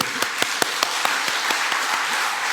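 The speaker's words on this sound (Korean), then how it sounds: "박수 한번 쳐주세요." Scattered individual claps from a small church congregation during a Sunday afternoon service, uneven and sparse, over a steady background hiss.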